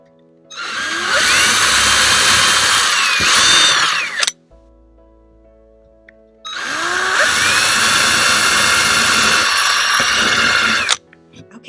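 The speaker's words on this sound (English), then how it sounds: "Just gonna drill a little hole right in there." A power drill bores holes in a plaque made from a recycled greeting card, with two loud, close whirring bursts of about four seconds each separated by a short pause.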